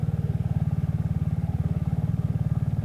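A motorcycle rides along a very narrow country lane, its engine throbbing steadily with an even, rapid pulse, loud and close throughout, and no voices.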